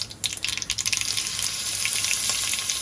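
Crushed green chili thecha hits hot oil with cumin and asafoetida while cooking zunka, a sharp burst of crackling spatter that settles into a steady, close sizzle, with no speech.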